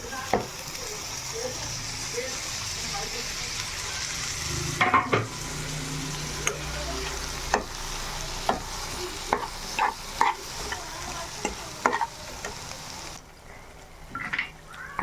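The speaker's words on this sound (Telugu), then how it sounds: "టమాటా వేసినాక ఇలా మగ్గాలి బాగా." Tomatoes fry in a chicken masala in a pan, with a steady soft sizzle throughout. A spoon stirs and scrapes the pan in repeated close, sharp knocks and clinks.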